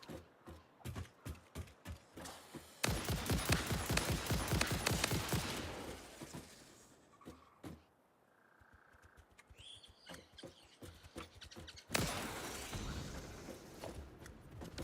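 Rifle gunfire in the video game Satisfactory: bursts of sharp repeated shots, with a dense rapid volley partway through and another loud burst near the end, separated by quieter stretches with small electronic tones.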